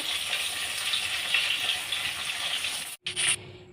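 Fish sizzles in hot oil with a steady crackling hiss that cuts off abruptly, followed by a short burst of sizzling.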